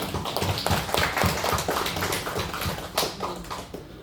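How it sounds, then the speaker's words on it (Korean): A church congregation claps together during a Korean worship service, producing dense, continuous applause that fills the space steadily from start to finish. "박수"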